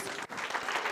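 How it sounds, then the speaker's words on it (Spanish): Audience applause at a Pint of Science 2019 music talk, a steady wash of clapping with a brief dip near the start, lasting about a second. "un aplauso para todos"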